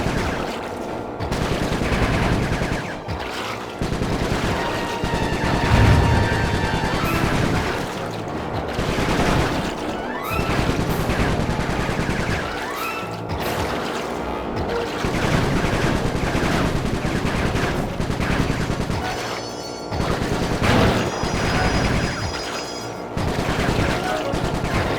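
Dense, sustained gunfire from the video game Sly 3: Honor Among Thieves, loud and continuous bursts with game music and effects layered over it, no talk.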